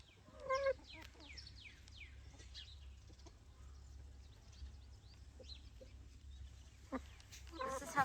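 Chickens in a garden, with short clucks and a brief rooster-like call over steady low rumble, a few louder bursts near the start and end, and some faint talk.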